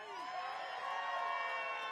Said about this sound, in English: You can hear the crowd getting ready.